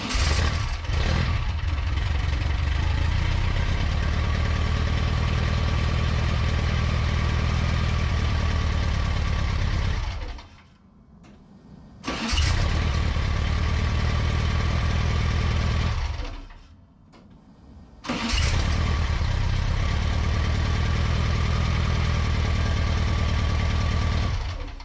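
A classic Volkswagen engine starts from cold and settles into a steady, loud idle with a low rumbling pulse, then shuts off twice and restarts each time.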